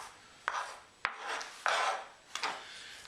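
Back of a spoon scraping and crushing garlic with salt on a cutting board, several close rasping strokes in a steady rhythm, with no voices.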